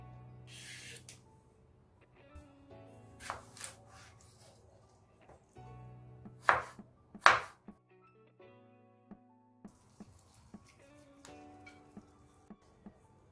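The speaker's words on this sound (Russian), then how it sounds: "Теперь нужно порезать огурцы." Knife slicing partly peeled cucumbers on a cutting board for a Greek salad, giving scattered soft cuts and scrapes with a few sharper louder strokes in the middle, close by and without talk.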